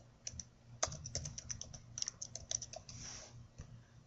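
Fingers tap steadily on a computer keyboard, a quiet run of close, crisp key clicks at an uneven typing rhythm with no talk.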